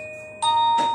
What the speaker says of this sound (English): it has 3 different kinds of music